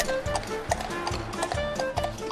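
A carriage horse on the Blackpool seafront clip-clops at a steady walking pace, its hooves striking pavement in a clear, regular rhythm close by, with faint talk in the background.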